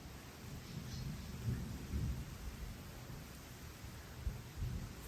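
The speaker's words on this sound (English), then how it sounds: "Sounds like thunder." Low rolling thunder rumbles through steady rain during a storm in Hawaii, the distant booms swelling a few times beneath the hiss of falling rain, fairly faint overall and with no talk.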